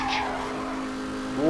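A McLaren F1 in the racing game Need for Speed Hot Pursuit Remastered drifts with a steady engine drone and tire skid, and a rising engine whine swells near the end.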